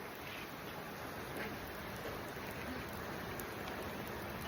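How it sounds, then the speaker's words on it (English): Pouring rain outside a home makes a steady, faint hiss of broadband noise, even and unbroken, heard from a distance without voices. "we got home and it is pouring rain."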